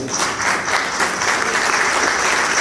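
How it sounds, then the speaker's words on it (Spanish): Audience applause at a press-freedom panel discussion, a steady, dense clapping from a full room that carries evenly through the whole stretch without voices. "yo pediría por favor un aplauso para su presencia"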